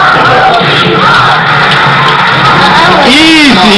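Loud crowd roar and cheering at a Super Smash Bros. Brawl tournament match, continuous throughout with excited yelling and commentary voices mixed in.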